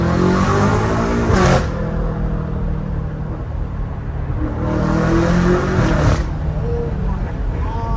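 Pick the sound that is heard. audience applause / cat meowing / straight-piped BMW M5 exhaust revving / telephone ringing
straight-piped BMW M5 exhaust revving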